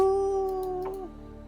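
A snarling creature's howl used as a tabletop-game sound effect: one sustained, loud tonal howl that holds steady, then bends and fades into a low growling rumble, with no voices.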